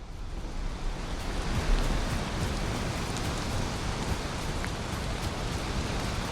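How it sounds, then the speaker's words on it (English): Heavy rain in a storm in the video game Valheim makes a dense, even hiss, loud and constant throughout with a brief swell near the middle and no speech. "It's very stormy and rainy."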